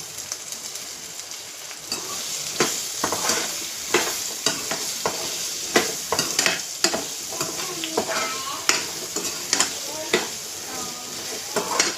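Raw mango pickle ingredients with salt and cumin being stirred and tossed in a hot pan, a steady sizzle under repeated scraping strokes of a spoon against the metal, close and fairly loud.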